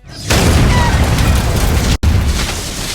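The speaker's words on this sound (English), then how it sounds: "And then, just to subvert expectations even more, a chicken truck explodes." A chicken truck blows up in a comedy film: a sudden loud boom that swells into a sustained roaring blast with debris, a brief cut near the end, then the rumble continues.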